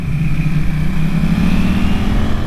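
A CF Moto NK800 motorcycle cruises along, its mid-pitched engine humming steadily with a faint rising whine, loud and close over constant road and wind noise, without any voices.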